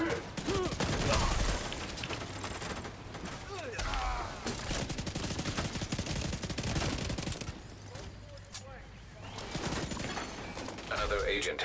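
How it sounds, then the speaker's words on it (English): Rapid bursts of video game gunfire crackle almost without pause, loud and dense, with a brief lull before the shooting picks up again near the end. "Firing on hostile."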